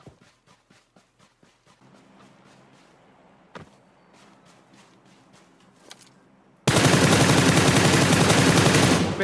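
Gunfire in the battle royale game PUBG Lite: a string of sharp distant single shots, a louder crack midway, then a sudden dense, very loud burst of rapid automatic fire filling the final seconds.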